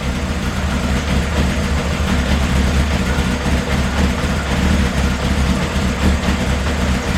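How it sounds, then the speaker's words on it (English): A freshly revived carbureted engine idles steadily, a loud, close, low rumbling drone with an even rhythm throughout and no voices. "It's idling, it's sitting there running and idling."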